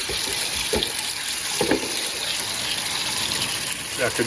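Water runs steadily and gushes as a gold panning sluice mat is washed off into the pan, a continuous close splashing wash with a few brief louder surges.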